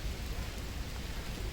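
Rain falling in the Luxembourg Garden in Paris, a steady broadband hiss that is faint but continuous and even, with no voices.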